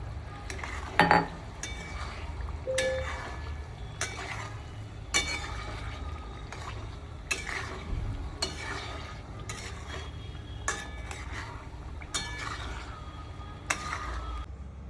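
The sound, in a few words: boiled potatoes being added and stirred into cooked gravy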